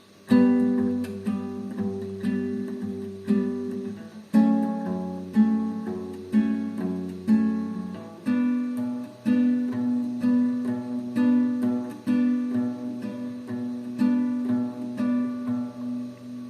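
Acoustic guitar strumming chords in a steady, even rhythm, each strum ringing out and decaying before the next, with chord changes along the way.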